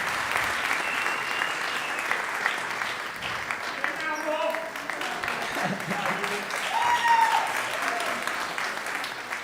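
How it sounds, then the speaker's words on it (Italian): Audience at a comedy show breaks into sustained, loud applause with clapping that swells and fades over several seconds, with some crowd voices mixed in. "Gli fate un applauso a Brian, per favore?"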